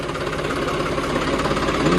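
Tractor engine on a farm during potato loading work, a steady near rumble with rhythmic knocking throbs holding at constant loudness for the whole stretch, no voices over it.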